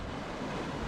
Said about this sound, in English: That's how you wouldn't want to stand too near the big waves.